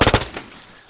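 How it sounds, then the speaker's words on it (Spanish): Gunfire from a Saiga shotgun in a video game: a quick burst of several sharp, loud blasts close together, trailing off into a fading echo. "Dos tiros de Saiga le pegué"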